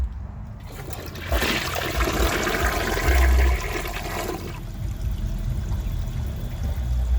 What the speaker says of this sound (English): let's see how it flushes with a dry bowl.